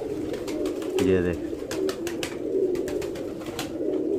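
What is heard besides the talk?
pigeon cooing, high flyer pigeons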